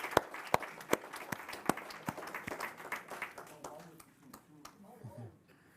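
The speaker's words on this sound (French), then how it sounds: "On peut les applaudir." A church congregation claps during a Sunday worship service, with sharp, scattered hand claps that thin out and fade toward the end as voices murmur underneath.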